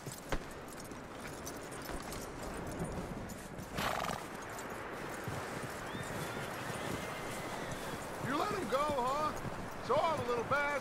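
In Red Dead Redemption 2, hooves clip-clop on hard ground as a horse snorts and then lets out several loud whinnies near the end, with voices speaking throughout.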